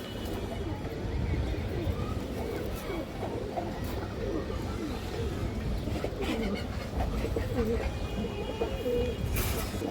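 Rampuri and other fancy pigeons coo in a steady chorus, with soft murmuring calls overlapping throughout against a constant low background.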